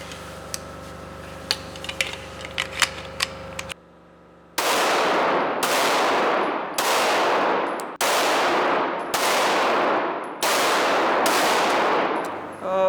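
Faint clicking comes first, then a short silence, followed by seven loud gunshots fired at a target through a red dot sight, evenly spaced over several seconds, each with a sharp report and decaying echo.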